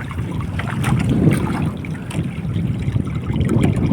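Steady wind rushes and buffets the microphone aboard a small outrigger boat under a newly made sail, with faint water trickling and lapping beneath, continuous and fairly loud with no talk.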